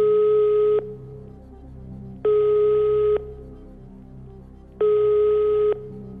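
Telephone ringback tone heard while placing a call on a television quiz show: three evenly spaced beeping bursts, each under a second long, separated by pauses, clear and alone.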